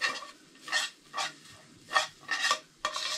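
Smoked pork belly, fresh yellow onion and wild mushrooms fry in a pan, with five or six separate spatula stirs scraping over a faint, steady sizzle, close up and without speech.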